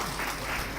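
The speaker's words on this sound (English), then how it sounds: "we cannot start without giving a big round of applause" An audience at a national seminar on digital education claps in a brief, dense burst of applause that fills the room.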